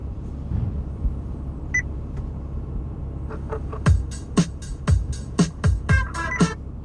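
A quiet engine hum runs underneath in a 2008 Porsche Cayman S, then an aftermarket Android head unit touchscreen gives a series of short electronic beeps in quick succession, about eight of them, near and clear.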